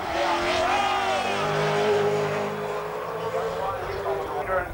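A touring race car laps Mount Panorama at the 1997 Bathurst 1000, its engine droning at a steady high pitch with a faint tyre scrub, heard from trackside under a voice talking.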